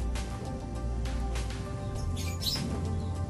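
White-rumped shama and oriental magpie-robin chirping in short bursts over a steady low hum and background noise, with a brighter, busier call near the middle.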